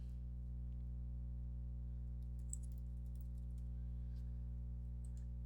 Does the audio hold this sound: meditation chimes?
no